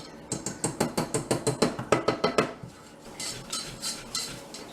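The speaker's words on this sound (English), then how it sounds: "we're going to whisk this in, and we're going to cook our roux until it's a golden brown" A whisk beats roux in a pan with a quick, steady run of rhythmic metallic scrapes and taps, which then slow and soften into a few looser strokes.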